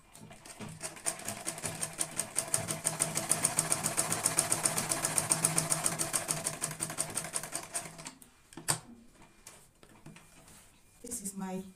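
A sewing machine stitches fabric for a visor turban sun hat, a fast steady run of rhythmic needle thumps for about eight seconds, then stops, followed by a few soft handling clicks and a brief restart.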